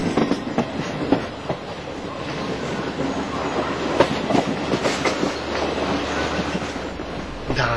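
A train on the Brescia–Edolo line rolls through the entry curve into the station, wheels clattering and squealing in short bursts over a continuous rumble at moderate distance, with no voices.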